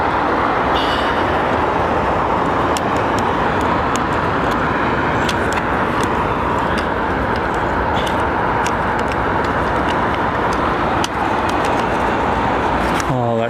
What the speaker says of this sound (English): That's an unmistakable sound of a set of GEs spooling up.